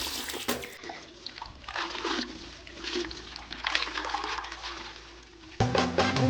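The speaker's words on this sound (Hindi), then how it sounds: "तो हम अच्छा से धो लेंगे, फिर काटेंगे, फिर इसको भूंजेंगे।" Red amaranth greens get washed by hand in water, with close sloshing, splashing and running-water noise throughout and a sharper splash of water near the end.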